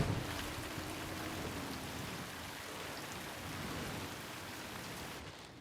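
Heavy rain pours down at sea in a storm, a dense, continuous hiss, with low rumbling wind and water noise beneath it.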